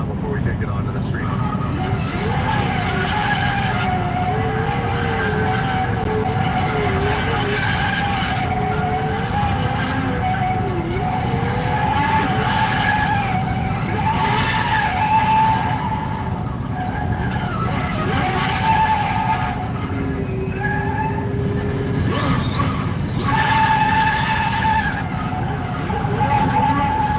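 A car performs a burnout to scrub the stickers off its rear tires, with sustained tire squeal and skidding wavering over a constant engine roar that swells and dips several times.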